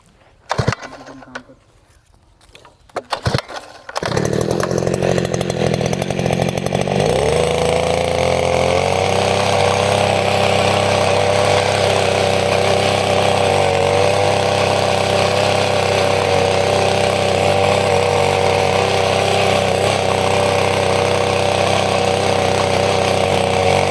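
A small mini power tiller engine starts after a few quiet seconds and runs steadily and loudly, a constant mechanical drone that continues to the end.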